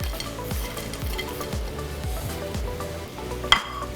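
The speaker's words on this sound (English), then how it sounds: "I'm going to throw these bacon bits back in here." Shrimp and bacon bits sizzle steadily in a pan, with a rhythmic series of low scraping thumps from stirring and a brief clink of a utensil near the end, no voices.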